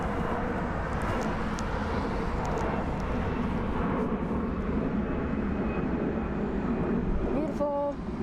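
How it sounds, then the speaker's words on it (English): A Saudia cargo Boeing 747 taxis at Frankfurt airport, its engines a steady loud rumble and roar heard close by, continuous throughout, with a brief tonal chirp near the end. "Beautiful Saudia cargo 747. Taxiing to the cargo terminal."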